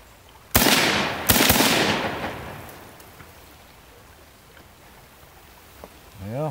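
Ruger M-14 rifle in 5.56 NATO firing two loud sharp shots about a second apart outdoors, each followed by a long decaying echo, then near quiet with a faint clank at the end.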